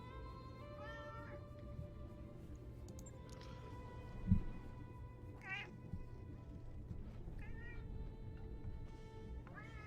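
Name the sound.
cat meowing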